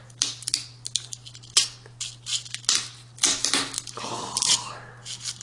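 A hard rattlesnake tail rattle is cut in half with a tool: a series of sharp, dry cracks and crunches in irregular bursts, up close over a low steady hum.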